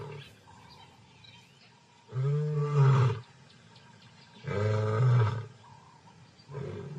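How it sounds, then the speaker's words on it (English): A white lion gives deep, rumbling roars, with two long roars and the start of a third separated by quieter stretches, heard clearly against a soft background of outdoor ambience. "Zyra can hear her brother's roar to identify their location"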